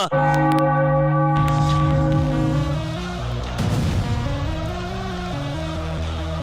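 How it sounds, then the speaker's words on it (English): A bell rings out to celebrate a Philadelphia Phillies win over the St. Louis Cardinals: clear, ringing strikes at the start that decay into a sustained, layered hum, with no voices. "Ring the bell."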